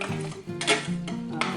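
Rice pudding being stirred in an Instant Pot: a spoon scrapes and clinks against the metal inner pot in a few quick, close strokes with soft wet squelching between them.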